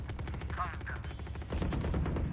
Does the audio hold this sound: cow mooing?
no